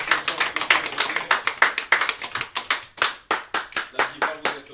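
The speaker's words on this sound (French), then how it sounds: "celle que je vous demande d'applaudir, Crescence Couture" A small audience claps in a crisp, rhythmic, fairly close burst of applause to welcome Crescence Couture, keeping an even pace for several seconds before tapering slightly.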